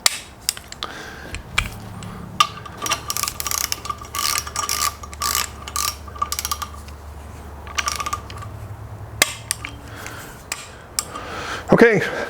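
A torque wrench ratchets in quick, clicking bursts while tightening bolts on a 7.3 IDI diesel short block in a workshop, with pauses between runs and a metallic clink near the end.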